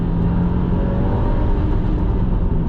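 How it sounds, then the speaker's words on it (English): A 2022 Subaru WRX engine pulls steadily on a wet road, a loud constant rumble and whir heard from inside the car with no talk. "you can feel the engine spool up faster with those different bits"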